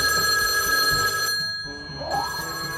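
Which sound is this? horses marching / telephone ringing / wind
telephone ringing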